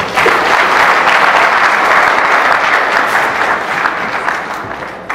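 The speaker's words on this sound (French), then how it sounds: "de les applaudir à nouveau, s'il vous plaît" Wedding guests applauding at a church ceremony, dense sustained clapping from a large crowd filling the space, loud and continuous before tapering slightly at the end.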